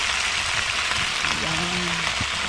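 Water spinach (kangkong) dropped into a hot pan gives a steady, close crackling sizzle that holds evenly throughout, with a faint voice briefly underneath.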